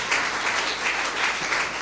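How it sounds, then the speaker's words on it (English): A church congregation claps together in a loud, sustained burst of applause, many hands overlapping into a steady roar with no voices on top. "Shall we give a hand clap for Jesus?"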